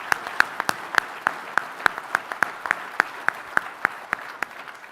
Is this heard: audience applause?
yes